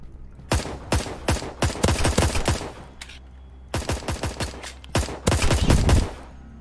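Rapid gunshots ring out in a Roblox 1v1 dueling game: two bursts of loud, close shots fired in quick succession, split by a brief pause, with no talking.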